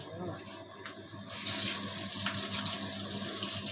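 A kitchen tap runs while hands are washed, starting as a softer trickle and swelling into a steady, close splashing stream for a few seconds, with a voice speaking briefly nearby.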